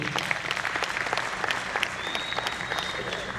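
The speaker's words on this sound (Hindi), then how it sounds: "जोरदार तालियां सभी के लिए।" Audience applause at a distributor training programme, a dense sustained clapping from a crowd of seated attendees filling the room evenly and fairly close throughout, with a faint tone briefly audible under it.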